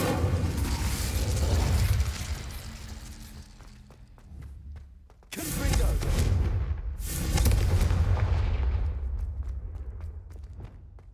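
Confringo blasting spell explosions in the Hogwarts Legacy video game: a loud rumbling blast, then a quieter lull, followed by two more sharp booming bursts with crackling decay, close and dominant.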